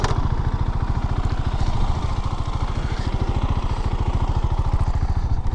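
Husqvarna Svartpilen 701 motorcycle idling close by, a steady rapid single-cylinder thump with an even, loping pulse and no talk.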